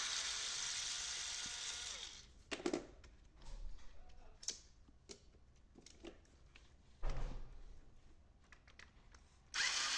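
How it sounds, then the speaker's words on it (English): Screws are removed from the side of a Samsung M4530/M4580 printer imaging unit: a steady whirring electric driver at the start, followed by scattered clicks, taps and handling knocks from the plastic parts, quiet and close. "remove the 3 screws."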